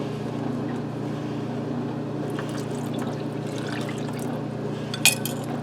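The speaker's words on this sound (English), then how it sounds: "Now I have 2 cups of milk that I put in 2 tablespoons of cornstarch. We're going to add this" Milk mixed with cornstarch is poured into a pressure cooker of German potato soup with sausage, making a steady liquid pour over a constant background hum, with a brief clink near the end.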